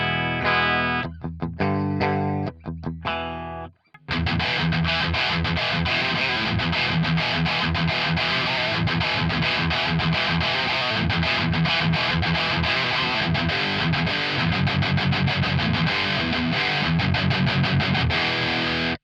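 Clean electric guitar tone through a Diezel VH4 preamp pedal, starting with a few sparse picked notes, then after a short pause settling into steady, full strummed chords played continuously and fairly loud, with no talking.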